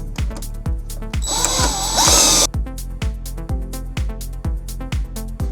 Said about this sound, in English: I'm thinking we're gonna have to drill. So let's do that.